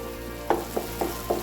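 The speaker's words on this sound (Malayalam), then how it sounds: "നമ്മൾ പച്ചയ്ക്ക് അരച്ചത് കൊണ്ട് കുറച്ചിങ്ങനെ പൊട്ടിത്തെറിക്കണ പോലെ ഉണ്ടാവും" Raw-ground onion and ginger paste splutters in a frying pan for a cauliflower masala, with four sharp pops in quick succession over a soft steady sizzle.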